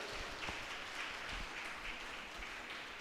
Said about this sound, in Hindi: ताली बजा के प्रभु को धन्यवाद दें